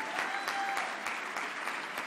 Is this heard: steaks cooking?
no